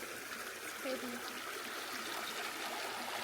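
A river rushes in a continuous broadband wash beside a campsite on the Black River in Arizona, steady and fairly close, with faint voices briefly audible under the water.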